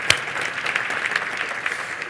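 Audience applause for the city's first equity officer at a State of the City event, a brief burst of clapping from a crowd, steady and moderately loud with no talking.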